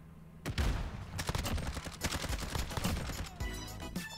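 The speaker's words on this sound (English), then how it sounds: "he's shooting before I'm even there" Rapid gunfire in a video game, a dense run of shots and bursts that continues for several seconds at fairly low volume, with no one talking.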